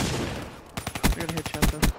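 Rapid bursts of gunfire from a shooter video game, several sharp loud reports in quick succession with faint background noise before them.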